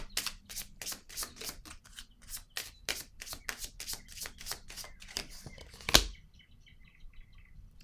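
A deck of tarot cards is shuffled close up in a rapid run of crisp riffling bursts, ending in one sharper snap, then quiet with faint background chirps.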